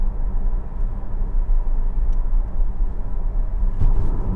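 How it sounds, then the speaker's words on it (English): Inside a Tesla accelerating on the road, a steady, fairly loud low rumble of road and cabin noise runs continuously, with no voices. "I'm going to accelerate through it."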